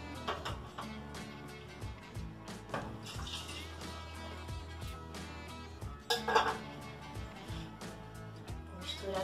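A homemade dessert with milk is stirred in a pan with a utensil, giving light scraping and clinking against the metal in an irregular rhythm, with background music playing and someone talking.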